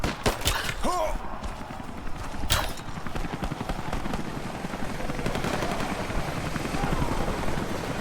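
A helicopter's rapid rotor chop thumps steadily throughout, joined by a few sharp gunshot-like cracks near the start, in the video game Rise of the Tomb Raider.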